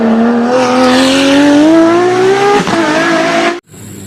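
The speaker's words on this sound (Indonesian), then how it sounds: "kalau yang ini mobil balap" A toy race car plays a loud, close electronic engine sound, a steadily rising rev that holds, dips briefly, then cuts off abruptly, leaving a faint tail, with no talk over it.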